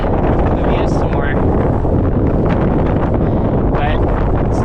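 Strong, cold wind roars across the microphone on the summit of Mount Baker in Washington's North Cascades, a loud, constant, buffeting rush that fills the whole moment, with muffled voices under it.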